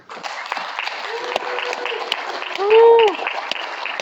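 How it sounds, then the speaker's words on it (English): An audience at a film premiere claps steadily in a dense burst of applause, with a whistle or cheer rising briefly partway through. "let's give these folks a round of applause"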